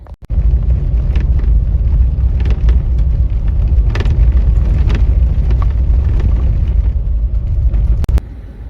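A car drives on the way to Fantasy Canyon, Utah, turning onto dirt roads, with a steady loud low rumble of engine and tyres that runs without a break for about eight seconds, then a brief drop near the end.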